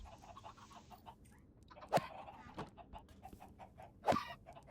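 Minecraft chickens cluck in a game world crowded with the birds, giving two louder squawking clucks over a low background hum. Softer clucks are scattered in between.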